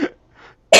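A chronic cough: a short harsh cough, then a faint throat sound, then a loud burst of coughing cut off at the end, close and alone.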